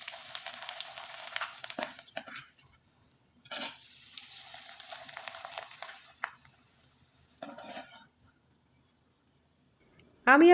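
Rice flour pitha frying in hot oil gives a soft, hissing sizzle in bursts with quieter gaps between, close and moderate in volume.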